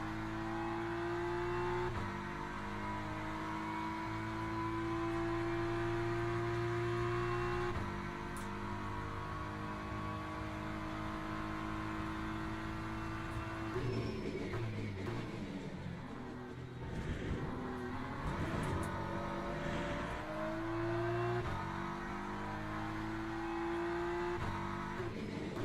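Ferrari race car engine in the Le Mans Ultimate racing game, droning loudly and steadily with rising and falling revs and gear changes throughout, with no talk over it.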